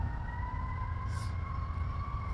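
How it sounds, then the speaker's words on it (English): Emergency vehicle sirens wail down a town street in Connecticut, a steady tone that sits at a moderate distance behind low traffic rumble, with no talk. "I'm having New York trauma listening to those sirens"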